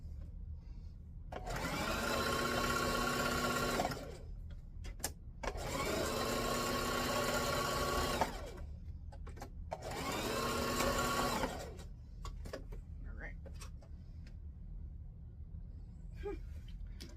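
A sewing machine back-stitches a jumbo pillowcase in three separate runs of rapid mechanical whirring, each a few seconds long, with quiet pauses and small handling clicks between them.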